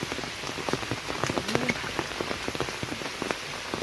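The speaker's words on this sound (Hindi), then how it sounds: "पानी का स्तर इस टाइम बारिश का स्तर भी बहुत तेज़ है" Heavy monsoon rain pours steadily near a swollen, flooding river, a dense hiss with spattering drops striking nearby surfaces, constant and fairly close.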